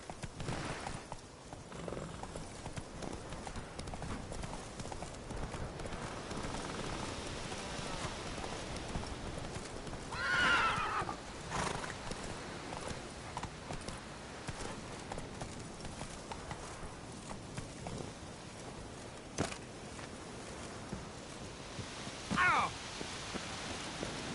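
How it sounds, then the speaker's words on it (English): Galloping hooves of the horse Roach in The Witcher 3 on PS4, a steady clip-clop rhythm running through the whole stretch under rain-like game ambience, with a couple of brief brighter accents. "Come on now. Run, Roach."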